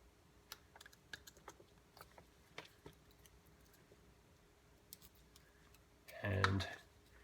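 Knife chipping bark while carving a simple bark piece: quiet faint ticks and scrapes, then one louder, close crunchy chip near the end.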